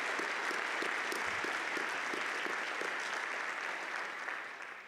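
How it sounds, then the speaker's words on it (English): Steady audience applause filling a university winter commencement ceremony hall after a saxophone quartet performance, dense and sustained for several seconds before tapering slightly at the end. "Could we have one more round of applause for the Millikin Saxophone Quartet,"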